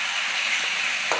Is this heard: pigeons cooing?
no